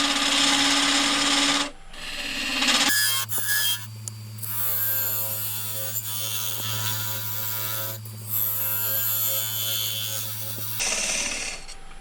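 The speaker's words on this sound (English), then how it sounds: "And I take the scraper and I use it to kind of make the wall straight." A scraper cuts a wood log spinning on a lathe to shape a lamp shade. The motor hums steadily beneath rough, scratchy cutting noise, with louder bursts at the start and end and no talking.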